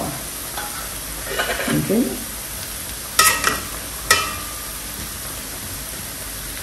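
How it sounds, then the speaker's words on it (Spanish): Sofrito for chicken bubbles and simmers in a pot on the stove, with a few short bursts of stirring and clattering over a steady hiss. A voice speaks one brief word. "Aquí tengo el sofrito que voy a hacer para mi pollo. Ya está hirviendo."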